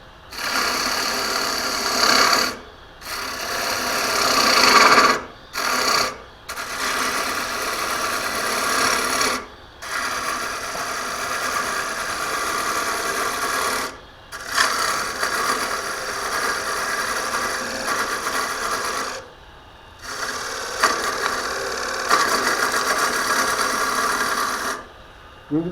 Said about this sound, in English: now I need to remove bulk so that my gouge has somewhere to go and I can make the bowl deeper